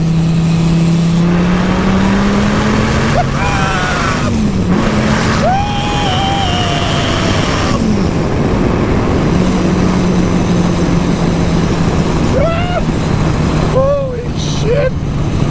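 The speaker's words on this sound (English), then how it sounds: "Okay, we're gonna do a third gear pull here. 70 miles an hour." A boosted 1,200-horsepower Dodge Viper accelerates hard in third gear from about 70 mph, its loud engine roar rising in pitch under excited voices inside the car.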